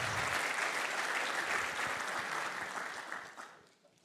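Audience at a startup demo day applauding, a dense sustained round of clapping that fades out toward the end.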